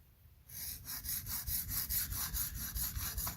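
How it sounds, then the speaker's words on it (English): A Spyderco Parata knife blade is drawn repeatedly across a sharpening stone at the heel, giving a steady run of about a dozen even, close scraping strokes after a brief quiet start, with no voices. "Really awkward sharpening down here at the heel at this kind of angle"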